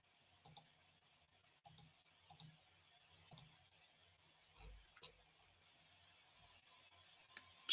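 A computer mouse gives light, close clicks, spaced irregularly across a quiet stretch, with a faint electronic hum underneath.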